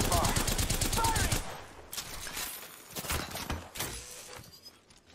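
Automatic weapon fire from an Apex Legends match comes in rapid bursts, dense at first and then in shorter volleys that fade, with a player's voice briefly heard over the shooting.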